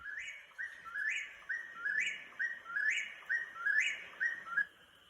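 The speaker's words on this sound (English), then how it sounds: "The whippoorwills will get going apeshit." Whippoorwills give a rapid, rhythmic series of repeated whistled calls, about ten phrases in quick succession, clear and fairly near against a quiet night background.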